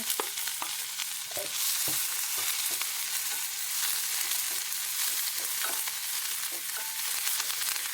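Crushed garlic and onion sizzle and fry steadily in a hot pan for a Kannada home-style cooking dish, with occasional stirring clatters and scrapes cutting through the continuous close crackle.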